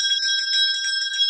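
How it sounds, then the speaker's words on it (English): A bright metal bell rung at an inn to call last orders, ringing clearly and loudly with a sustained tone across the whole moment and no speech. "Mick's going to ring a bell"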